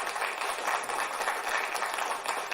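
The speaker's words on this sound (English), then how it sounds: "A round of applause" Applause for Dennis Gustafsson after a live-coding talk: a room full of people clapping in a dense, continuous patter that holds steady throughout, with no voices over it.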